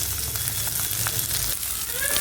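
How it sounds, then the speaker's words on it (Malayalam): Small onions, shallots and garlic frying in a pan, a continuous close sizzle with a few faint stirring clicks and no talking. "അതിൻ്റെ കൂടെ തന്നെ ചെറിയ ഉള്ളി ഇട്ട് കൊടുക്കുന്നുണ്ട്"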